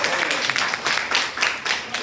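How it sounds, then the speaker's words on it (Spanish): Brief burst of classroom applause for a student, a small group clapping in uneven pulses at close range with some speech mixed in. "Un aplauso aquí para la chica."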